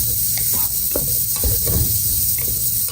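Green chillies sauté in hot oil inside a pressure cooker, a steady close sizzle with soft stirring scrapes and clinks throughout, no talking.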